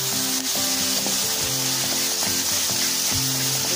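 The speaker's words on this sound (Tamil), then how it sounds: "அப்புறம் கொத்தமல்லி, கருவேப்பிலை, புதினா இதெல்லாம் போட்டு நல்லா வதக்கிக்குவோம்" Coriander, curry leaves and mint sizzle and crackle in hot oil, with steady frying hiss and occasional clinks of a utensil stirring the pan.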